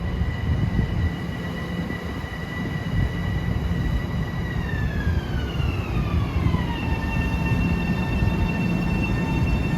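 A Long Island Rail Road diesel passenger train from New York to Hicksville roars loudly past on the triple track at Carle Place. Its engine and horn-like tones drop in pitch as it goes by over a constant heavy rumble.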